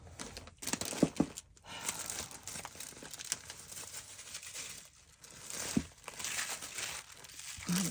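Tissue paper is handled and crinkled up close during paper crafting for a junk journal, giving steady rustling with sharper tearing-like crackles and short pauses throughout.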